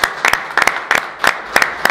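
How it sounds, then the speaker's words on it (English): An audience applauds a group of Creighton University students seated in the middle of the crowd, a steady round of clapping with sharp rhythmic bursts, close and fairly loud, with no talk over it. "I'm going to ask all my guests to applaud these Creighton students right here in the middle of the audience."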